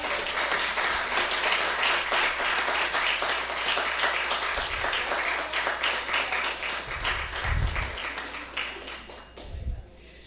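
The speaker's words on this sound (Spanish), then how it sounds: "¿Cuánto les dan un aplauso a esa líder que usted tiene?" Congregation applauding their pastor at a Spanish-language worship service, a steady wash of many hands clapping that thins toward the end, with low thumps from the room underneath.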